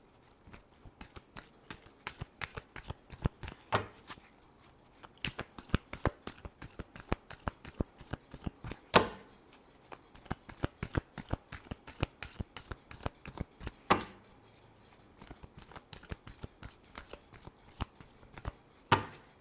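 Tarot cards being shuffled by hand ahead of a reading, a long run of quick crisp riffling flicks in steady bursts, close and clear with brief pauses, and no one talking over it.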